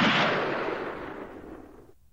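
A single gunshot blasts in an audiobook scene and fades into a long rumbling decay that cuts off abruptly after about two seconds, heard alone with no voice.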